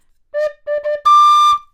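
Bamboo whistle playing short clear tones, two brief notes followed by a longer, brighter sustained note, loud and close with no other sound.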